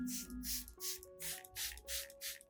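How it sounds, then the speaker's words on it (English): A spray bottle mists in short, rhythmic bursts, about seven quick hissing pumps in a row, close and fairly quiet, with a faint tone underneath. "When spraying, apply only a fine mist that lightly coats the leaves."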